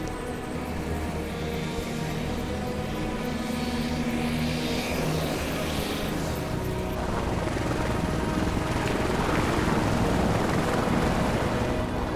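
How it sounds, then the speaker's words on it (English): An air ambulance helicopter lifts off at a remote highway summit accident scene, its steady rotor drone loud and continuous throughout, building slightly toward the end. "Air ambulance is just taking off now."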